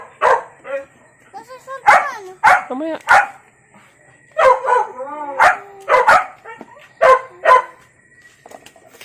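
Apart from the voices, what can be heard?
dog barking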